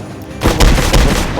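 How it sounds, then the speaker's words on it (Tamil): Rifle gunfire in the video game Dead Rails, a loud booming shot followed by a rapid burst of rumbling reports, close and heavy. "ரைஃபிள் எடுறா. போடுறான் ஒரு புல்லட்."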